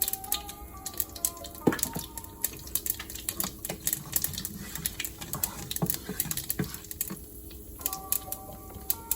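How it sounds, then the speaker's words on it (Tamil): Mustard seeds spluttering in hot oil at the start of a Tamil fish curry, a dense run of sharp crackling pops and patter, close and steady without speech. "கடுகு பொரியட்டும்"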